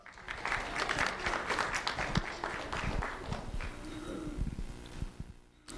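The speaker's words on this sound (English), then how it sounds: "Let's have a round of applause for Louis Lotto." Sustained audience applause for a young elementary school student being honored at a sheriff's office recognition event, dense and fairly loud clapping with a few sharper claps, tapering off near the end.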